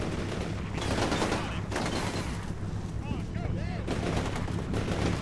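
Dense automatic and rifle gunfire from a modern combat game with Marines fighting insurgents, sustained bursts throughout, with a voice talking over the shooting.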